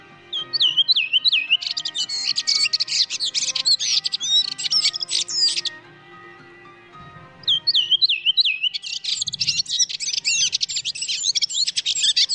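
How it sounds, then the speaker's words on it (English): A redwing (Turdus iliacus) sings its descending, warbling song in two bursts of bright, rapid chirps and twittering phrases, close and clear, with a brief pause between them. "Here's an example of its descending, warbling song."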